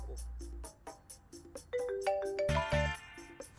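A phone rings with a looping melodic ringtone while a call is placed, a clear sequence of tones that builds and grows louder and fuller toward the end, heard alone without speech.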